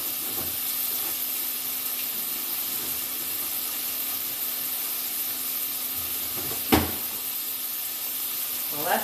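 Food cooking in oil in a pan, a soft continuous sizzle and hiss with a couple of brief clatters, faint and steady.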